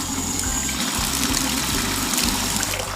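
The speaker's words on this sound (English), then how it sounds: "Faucet." Water runs steadily from a bathroom faucet in a continuous, even trickling stream with a low pump-like hum underneath, heard up close with no voices.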